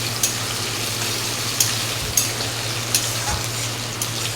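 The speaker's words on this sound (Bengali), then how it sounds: "দেখো বন্ধুরা, আলুটা ভেজে নেব।" Potatoes fry with a little turmeric in a pan for a soybean recipe, giving a steady close sizzle under a low mechanical hum, with a few sharp clicks or spatters at irregular intervals and no talking.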